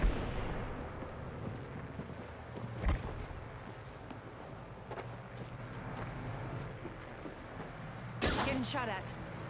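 Gunfire in Apex Legends during a final-ring fight, a few muffled shots and impacts under a steady game rumble, with a sharper burst near the end.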